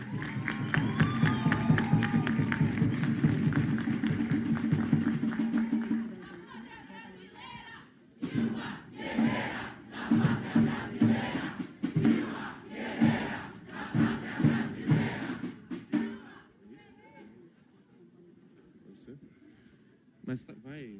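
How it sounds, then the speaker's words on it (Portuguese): A crowd at an extraordinary youth congress of a political party in Curitiba greets a motion with loud sustained chanting and cheering, then breaks into uneven bursts of clapping and shouts that fade toward the end. "Uma salva de palmas aí para a moção."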